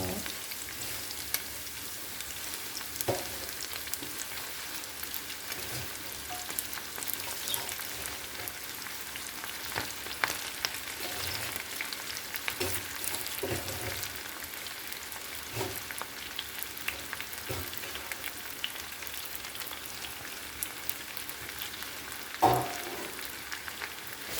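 Spinach fries in a pan with onions, giving a soft, continuous sizzle and crackle broken by occasional scraping stir clicks and one brief louder knock near the end, no voices.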